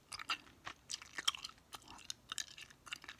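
Close, quiet chewing of bubblegum balls, with wet smacking and soft crunchy bites in an irregular rhythm and nothing else audible.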